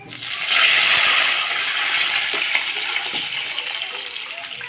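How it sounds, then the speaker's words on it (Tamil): Guava leaf rasam is poured into a pan of hot tempering with curry leaves and dried red chillies, producing a loud, steady hissing sizzle and splash that swells early and then settles into a continuous crackle. "இப்போ ரசத்தை உள்ளே சேர்த்துக்கிடுவோம்"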